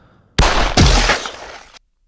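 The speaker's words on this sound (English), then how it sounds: "Gunfire." A short burst of gunfire: two close, loud cracks in quick succession with a rough, ringing tail that cuts off after about a second and a half, otherwise silent.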